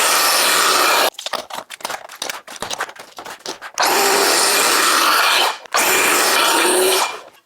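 Power saw ripping rough reclaimed pine planks into 3-inch strips for a barn door, loud close bursts of cutting noise separated by a stretch of rubbing and handling sounds before two more long cuts.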